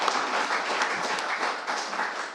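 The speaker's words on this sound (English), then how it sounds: "Let's give our panel a big round of applause here for coming up tonight." An audience applauds a jazz panel in Kansas City, a dense, steady wash of clapping from many hands held at even strength throughout.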